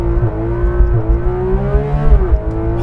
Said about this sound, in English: launch control in a GT3RS